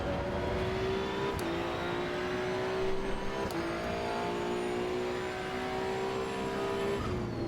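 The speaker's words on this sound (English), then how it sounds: "You can even hear the turbos for the Ferrari." Ferrari in the racing game Assetto Corsa EVO, its engine droning steadily with rising and falling revs and a faint whistling whine over the top, close and continuous with short shift dips.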